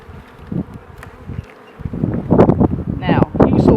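Honey bees swarm and buzz at a treatment-free, small-cell beehive on its sunny south side, a dense steady drone that grows louder and busier toward the end, with a person's voice faintly mixed in.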